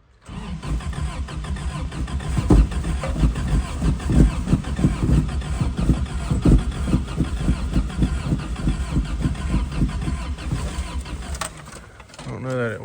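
A 1984 Toyota truck engine cranks with a steady rhythmic chugging of the starter, the motor loud and close for several seconds before dropping away at the end.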